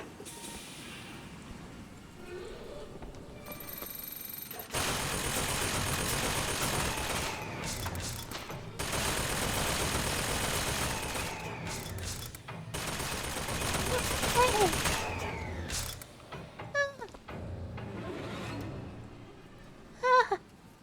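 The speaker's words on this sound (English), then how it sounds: "I should have been using the shotgun." Video game gunfire with a shotgun fires in dense, loud sustained bursts separated by brief pauses, with some sharp isolated blasts near the end.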